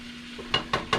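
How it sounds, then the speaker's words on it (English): A spoon stirs macaroni noodles in a pot with three distinct scraping strokes in quick, regular rhythm over a faint steady background hum, up close and with no talking. "Just keep stirring these noodles, because they will stick."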